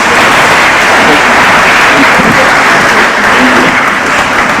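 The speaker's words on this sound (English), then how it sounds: "have another round of applause for the panelists" Loud sustained applause from a large conference audience for a panel at the opening of a CGIAR science event, dense and continuous clapping throughout with a faint voice beneath.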